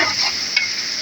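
Tomatoes and spices sizzle steadily in a hot pan while aloo gobi cooks, a continuous close frying hiss with a faint stir partway through and no talking.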